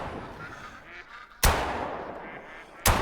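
Ducks call in theHunter: Call of the Wild, with faint honking quacks over a hiss of outdoor ambience, broken by two sharp, loud gunshot-like bursts about a second and a half apart.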